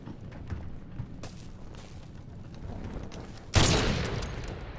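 Gunfire rattles through a first-person shooter match, with scattered shots and a busy low rumble, then one loud, sharp blast near the end that fades slowly.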